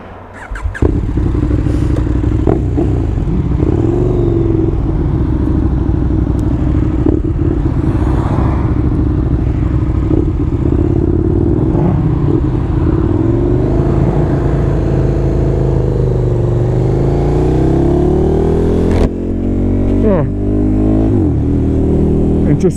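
A 2019 KTM Superduke R ridden on damp roads, engine loud and close with a steady drone, rising and falling revs and wind rush, continuous throughout with no talk over it.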